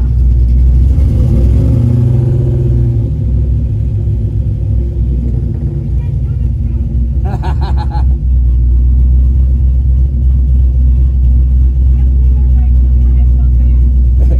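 A Mercury Cougar drag car makes a pass at Cordova Drag, its deep, constant engine rumble droning loudly throughout, with a brief higher mechanical burst midway and voices talking over it.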